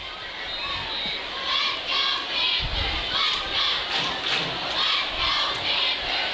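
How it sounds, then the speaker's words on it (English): A high school football crowd at Snohomish High School roars and chants in rising, pulsing waves, with young voices yelling amid the steady din, heard from the stands. "Crowd trying to fire up their team here at Snohomish High School."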